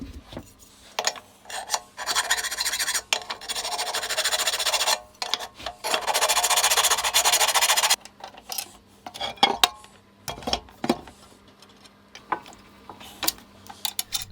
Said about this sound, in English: going over the parts of the fence, making sure things are installed level and deburring any faults with the casting